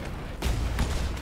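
Ship cannons fire in the pirate video game Blazing Sails, two heavy booming shots about a third of a second apart, fairly close over a constant rumbling sea-and-wind bed.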